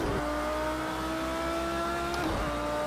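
A race car accelerating on throttle around the Daytona road course, its engine a loud, steady buzzing roar that fills the short stretch with no talking.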